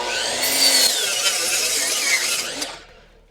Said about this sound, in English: Now we're gonna cut the 48 inch posts.